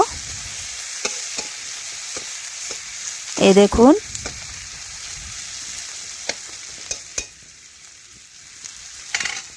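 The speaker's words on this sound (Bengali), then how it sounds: "এখন পেঁয়াজটা একটু লাল লাল করে আমি ভেজে নেব" Chopped onion frying in hot oil in a pan, cooked for a fish curry: a loud, steady close-up sizzle with a brief burst of stirring clatter partway through and a short spoken remark.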